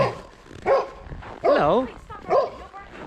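Dog barking in short sharp bursts, three distinct yelps spaced about a second apart, close by, while a person speaks a brief greeting.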